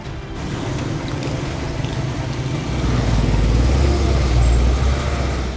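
Heavy road traffic roars steadily past a petrol pump set right on the road, a loud continuous rumble of engines that swells deeper and heavier halfway through.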